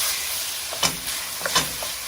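Pork stew pieces fry with onions and garlic in a hot pot, giving a steady close sizzle with a couple of brief louder bursts as the pieces are stirred, and no talking.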